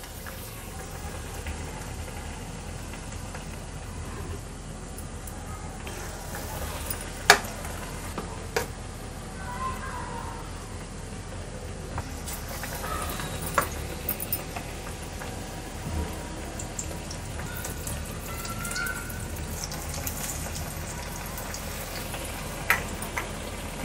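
Bread pakoras frying in hot oil, a soft continuous sizzle and bubbling at low level with occasional small clicks and taps throughout, no talking.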